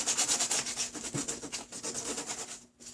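Sandpaper rubs back and forth in quick, steady strokes over the plastic washer fluid reservoir of a 1995 Toyota Tacoma, close and fairly soft, with a brief pause near the end.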